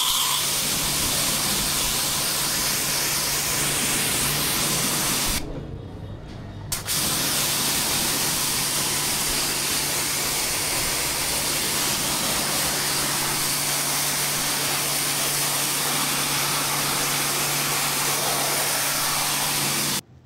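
A strong water spray hisses steadily while cleaning the outdoor condenser of a Transtec inverter air conditioner, loud and continuous with a steady low hum beneath and one brief pause partway through.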